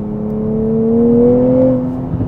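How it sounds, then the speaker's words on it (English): A 2024 Nissan Z Nismo sports car's steady engine note with a low droning exhaust tone that rises gradually in pitch as it accelerates, fairly loud and continuous, with no talking. "I like the sound of this exhaust too"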